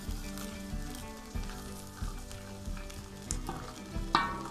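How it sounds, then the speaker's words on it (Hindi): Potatoes, peas and moongre fry together in a pan with a steady sizzle, punctuated by soft bumps and scrapes as they are stirred, close and continuous. "5 मिनट के लिए फ्राई करना है।"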